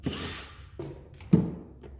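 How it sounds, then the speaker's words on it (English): Screws backed out of a plastic surge protector cover with a small power driver, giving short whirring bursts separated by pauses and a sharper click near the end, close up with no talking. "So if you run the screws out real quick,"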